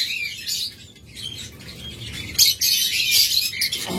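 A mating pair of caged lovebirds chirps in quick, high twittering bursts, near and lively, growing busier and louder toward the end.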